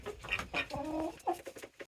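Several chickens cluck and murmur nearby in short, uneven bursts, a soft busy chatter of hens with brief pauses between calls.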